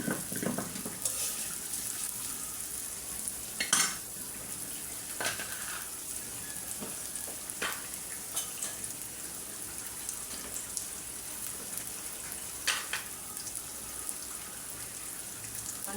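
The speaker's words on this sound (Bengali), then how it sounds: "এখন আমি কড়াইতে পেঁয়াজ আর তেল দিয়ে দিলাম" Onion and oil frying in a karai, a soft steady sizzle with a few scattered clicks and stirring sounds, heard alone without talk.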